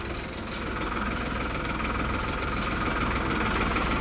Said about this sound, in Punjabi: ਕਰ ਲਿਆ ਸਟਾਰਟ ਬਾਈਕ ਦਾ